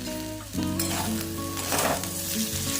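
Potatoes and tomato frying in a pan, a loud continuous sizzle that surges as the pieces are stirred, with a low steady hum underneath.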